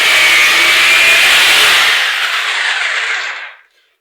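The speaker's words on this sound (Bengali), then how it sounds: "আমাদের এক পাশে ড্রিল হয়ে গেছে এবং আমরা আরেক পাশে ড্রিল করব।" A loud, harsh electric drill grinds steadily into a bathroom floor, then spins down and stops, leaving silence.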